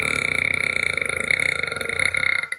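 A person lets out one long, loud, close burp that rumbles for over two seconds before cutting off, linked to acid reflux.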